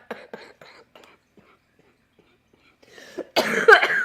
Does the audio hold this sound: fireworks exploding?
no